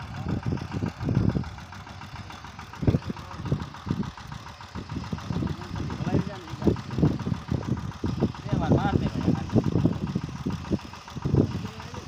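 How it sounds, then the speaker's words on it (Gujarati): A tractor engine runs at idle driving a belt-turned spray pump on a farm, producing a low, rhythmic knocking chug that pulses steadily throughout, with people talking over it. "ને જો ટ્રેક્ટર માથે જો પટ્ટી ફરે ને પંપ છે"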